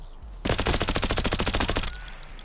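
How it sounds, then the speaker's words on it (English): Rapid automatic bursts of 9x39 rifle fire (SP6 rounds from a VSS/VAL) in Escape from Tarkov, a loud, dense string of close shots lasting about a second and a half, alone without talk. "we're also going to be shooting some SP6 here to see what that extra 10 recoil actually looks like up close and personal"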